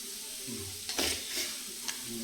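Chilli powder and spice masala heat in oil in a pan for a fish curry, giving a low steady sizzle with a few brief louder scrapes of stirring.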